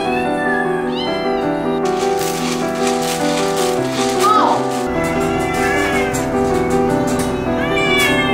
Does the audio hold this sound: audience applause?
no